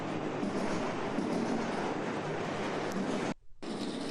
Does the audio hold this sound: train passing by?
yes